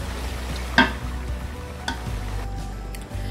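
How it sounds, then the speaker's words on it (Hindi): Beef bone curry stir-frying in a heavy pot, a continuous sizzle broken by a couple of sharp spoon knocks against the pot's side. "हम तकरीबन इसको इसी तरह से 5 मिनट तक भुनाई करेंगे इसकी।"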